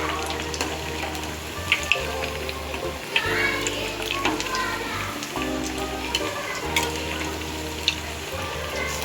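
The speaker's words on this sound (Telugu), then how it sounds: "ఎంత చక్కగా, ఎంత ఎర్రగా, ఎంత బాగా వేగుతున్నాయో" Sweet corn and palak masala vadas sizzle and crackle steadily in hot oil in a home kitchen, a continuous frying hiss under a voice talking.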